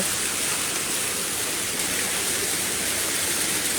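Floodwater rushing during heavy rain in Kahramanmaraş near a tent city, a dense, steady roar of water and rain that fills the whole moment with no voices.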